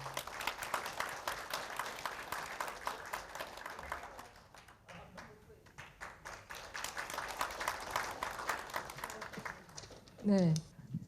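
Audience applause at a Seoul doctors' day commemoration ceremony, a soft, sustained patter of clapping that dips briefly midway then resumes, with a short sharper sound near the end.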